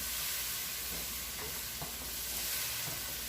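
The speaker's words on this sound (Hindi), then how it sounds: "थोड़ा सा पानी डालकर मैं इसे अच्छी तरह भून लूँगी।" Steady sizzling of spices, including turmeric and dried coriander, frying with a little water in a pan for chole, with a few soft scraping stirs, continuous and close, no voices.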